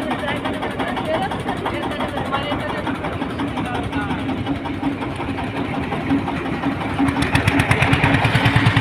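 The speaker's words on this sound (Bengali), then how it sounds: "কিন্তু দেখুন প্রচুর ট্রলার আপনারা হয়তো দেখতে পাচ্ছেন।" Trawler boat engines run steadily in the Sundarbans, a continuous low mechanical drone with a throbbing pulse that grows slightly stronger near the end, while crowd chatter and voices mix in around it.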